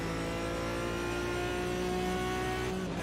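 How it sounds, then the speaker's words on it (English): An Aston Martin race car engine in a sports car racing video game roars steadily at high revs, its droning harmonic tone holding nearly constant, loud and close with no talking. "Listen to that Aston Martin."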